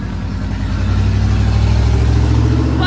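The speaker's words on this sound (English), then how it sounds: "You hear all the traffic. I live on a somewhat busy street." Steady, loud traffic on a somewhat busy street, car engines rumbling and swelling continuously with no pauses, nearby and constant throughout.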